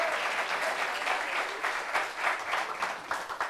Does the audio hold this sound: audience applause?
yes